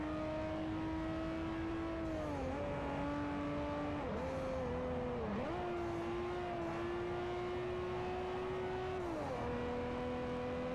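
Race car engine in the Forza video game with manual gear changes, a sustained close whine that drops in pitch at each shift and climbs again, loud and alone without talk.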